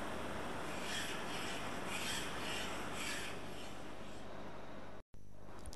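A metal hand file worked across a workpiece in a workshop, giving steady rhythmic rasping strokes about once per second, close and continuous, that stop abruptly near the end.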